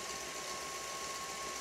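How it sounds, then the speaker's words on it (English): Electric mixer beating pumpkin cream cheese muffin batter, a steady close motor whir and hum held at an even level throughout, with no voices. "I'm gonna crank up this mixer a little bit more so we can get this done faster."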